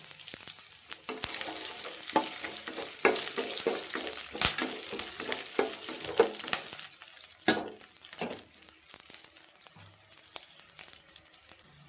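Green and dried red chillies fry in a pan, a steady crackling sizzle with sharp pops and bursts of spattering oil that gradually settle down.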